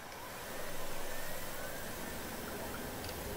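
A helicopter in the park-building game Jurassic World Evolution 2 hums with a steady, rushing engine drone that swells slightly, then holds evenly throughout.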